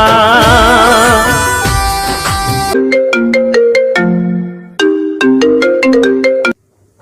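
A mobile phone ringtone plays loud and close, a bright melodic sequence of repeated tones and chimes that runs for several seconds and then cuts off abruptly, with no talking.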